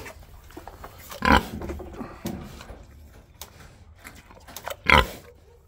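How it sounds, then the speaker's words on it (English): A Hereford pig grunts in two short, loud bursts, separated by quieter shuffling and snuffling sounds nearby. "Gracie Pig is a purebred Hereford."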